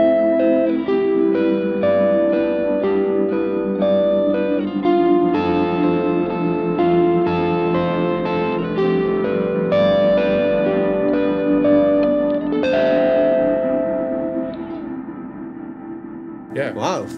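Electric guitar through Blue Cat Axiom amp and effects plugins rings out chords wrapped in a lush, chorus-and-echo harmonic texture that sustains behind the notes, played steadily for about seventeen seconds and fading near the end.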